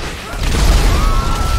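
An RPG rocket explosion in GTA 5 during a modded street race, heard as a loud, broad rumbling blast that swells after a short build-up and lingers briefly.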